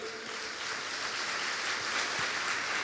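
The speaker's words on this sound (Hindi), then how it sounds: "ताली बजाई।" A congregation at a Hindi Christian worship service claps together in a continuous, dense roar that holds steady with no talk over it.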